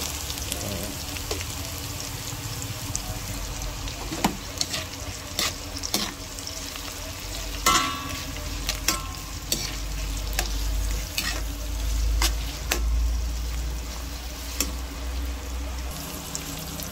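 Hotdog and onions frying for sopas in a pan, a steady sizzle running throughout with scattered clinks and scrapes of stirring, close and moderately loud with no talking.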